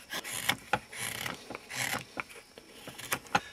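A sharp firmer chisel carving a wooden love spoon, close scraping and rubbing strokes with small crisp ticks as wood comes away, quiet and irregular, no talk.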